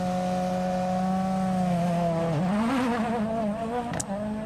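A rally car idles at the start line of the ninth special stage of the Monte-Carlo Rally, a World Championship event on a damp road. Its engine holds a steady loud drone, then its pitch dips and rises, and a sharp click comes near the end.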